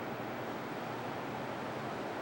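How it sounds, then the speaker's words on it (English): Ocean waves at a Puerto Rico beach, a faint, steady wash of surf with soft rushing noise and no distinct breaks, heard from a distance. "Enjoy the waves."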